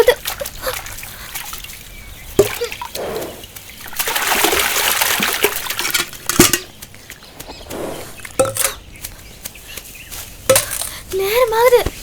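Water is drawn into a bucket, with intermittent splashes, sloshing and trickles near at hand. Voices come and go between the pours.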